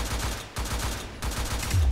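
Sindri's ultimate in T3 Arena unleashes two laser balls: a rapid, loud stream of pulsing blasts in quick rhythmic succession, broken by brief gaps, with a deeper thump at the close.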